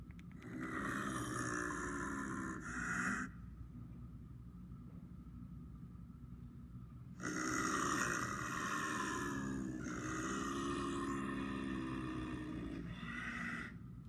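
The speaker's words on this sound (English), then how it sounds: "They make a deep growl, and so they don't roar like a lion" An Asian zoo animal recorded at the San Diego Zoo gives a deep, rumbling growl, loud and close, in two long bursts separated by a quieter pause.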